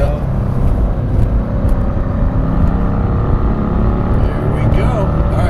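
A 2019 Mercedes-AMG C63S engine roars loud and close on a track lap, a dense continuous rumble with rising and falling revs as it brakes and drops gears, while a person talks over it.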